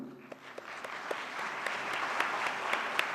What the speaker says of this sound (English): A big applause from all of you.